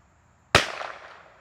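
A single CZ 457 MTR rimfire rifle shot cracks sharply from near silence, followed by a short decaying tail of echo.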